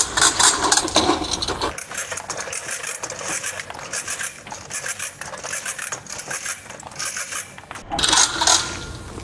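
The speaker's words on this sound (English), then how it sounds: "We wind all of the hose off." Hose unwinding off a spring-driven hose reel makes a continuous close metallic rattling and clicking with steady ratchet-like ticks throughout, swelling louder near the end.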